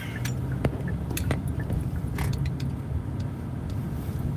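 A car drives along rural back roads, its steady engine and road rumble filling the cabin, with scattered clicks and rattles from inside.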